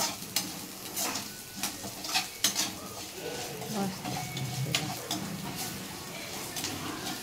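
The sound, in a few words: frying and roasting until it turns red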